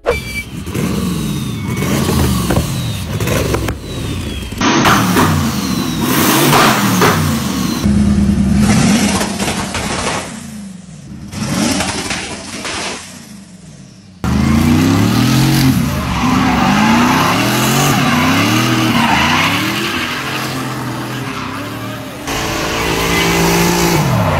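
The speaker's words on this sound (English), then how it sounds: "Twin turbo LS V8 in a Japanese car." A loud twin-turbo LS V8 in a Japanese drift car revs hard and repeatedly, engine note rising and falling as tires skid and squeal close by.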